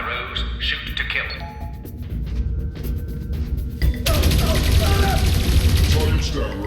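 Gunfire in the video game Dreamfall Chapters erupts as a dense, loud volley of rapid shots in the second half, following tense game sounds and voices earlier.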